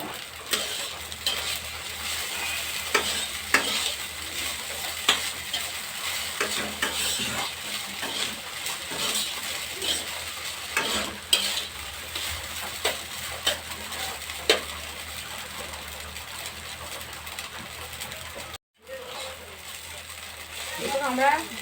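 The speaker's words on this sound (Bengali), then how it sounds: "আদা, পেঁয়াজ ও লঙ্কা ভাজা হয়ে গেলে আমাদের যে চিড়াটা ঝরানো ছিল সেই" Drained poha is tossed into a pan with fried ginger, onion and chilli. Steady sizzling frying fills the sound, with repeated scraping and clattering strokes of a spatula against the pan, close and fairly loud, and a brief silence near the end.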